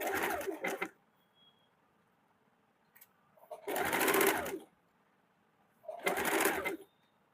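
A sewing machine stitches a fabric strip onto a blouse beside the piping, in three short, loud, close runs of rapid stitching separated by quiet pauses.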